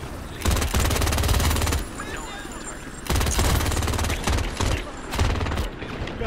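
Bursts of rapid gunfire from the video game Crime Boss: Rockay City come in loud, dense volleys with short gaps between them, mixed with shouted voices.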